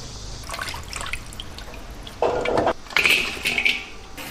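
Chicken feet are rinsed in water in a home kitchen, with soft drips and trickles giving way to louder splashing bursts and light clinks of a bowl or pan nearby.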